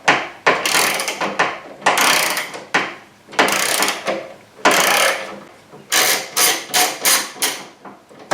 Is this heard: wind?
no